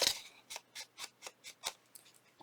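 Seven quick, crisp snips of scissors cutting through paper for a junk journal, evenly spaced and close up in a quiet room.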